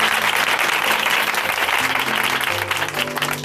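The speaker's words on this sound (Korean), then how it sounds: "임미옥 자매님께 다시 한번 큰 박수 부탁드릴게요" A church audience claps together in dense, sustained applause at close range, with a faint voice or tone rising beneath it near the end.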